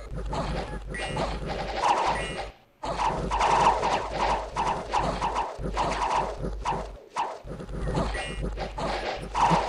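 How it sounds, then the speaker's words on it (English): Horses running in the strategy game Dominions 6 make dense, rapid clip-clop hoofbeats in continuous bursts, broken by a few brief pauses, with battle clatter mixed in. "horses are running away."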